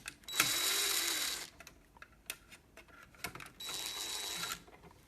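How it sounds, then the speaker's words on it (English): A power driver whirs in two sustained bursts while removing screws from a Lutron Caseta dimmer switch cover, with small clicks and handling taps between them. "Some screws I just need to take off because I'll use the original cover screws."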